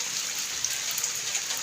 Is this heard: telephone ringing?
no